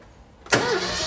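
A barn-find Ford Escort RS Turbo S2 engine cranking over during a compression test: a quiet moment, then an abrupt, loud, close whirring spin from the starter and engine that holds steady to the end.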